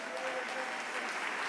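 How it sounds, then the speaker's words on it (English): An audience at a Pride Shabbat service in 2023 gives a short burst of applause. Steady clapping from many hands fills the space at moderate distance, with voices faintly beneath it. "stand up so we can give you applause?"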